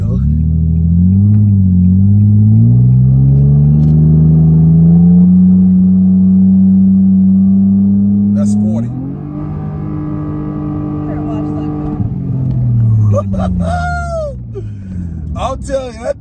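A custom 2009 Nissan Maxima accelerates hard. Its engine drone climbs steadily in pitch, then drops at a gear change and pulls again, with loud in-car voices talking and exclaiming over it.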